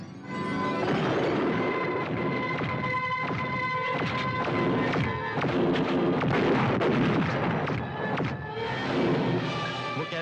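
Rapid bursts of gunfire crackle continuously at close range, sharp repeated shots layered densely with no talking.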